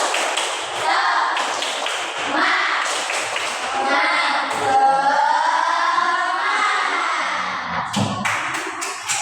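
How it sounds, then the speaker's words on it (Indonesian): Classroom of children doing a rhythmic spirit clap (tepuk semangat), chanting loudly together before a burst of quick claps near the end. "maju ke depan, tepuk semangat"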